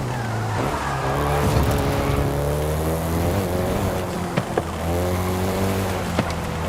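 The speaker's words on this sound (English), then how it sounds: "the Golf GTI you're driving right now" A Volkswagen Golf GTI drives in Forza Horizon 5, its engine droning steadily and loudly with shifting revs and a few brief tire chirps throughout.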